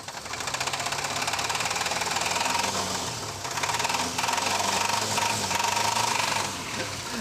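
A failing car engine runs roughly with a knocking, uneven idle, sputtering and surging in pulses; voices speak briefly over it.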